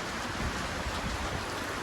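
Steady, dense hiss of rain falling, even and continuous across the short stretch with no voices.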